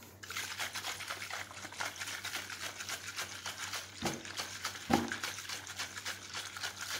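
An Oreo milkshake is shaken in a cocktail shaker, making a rapid, rhythmic sloshing rattle that carries on steadily with a couple of louder knocks, moderately close.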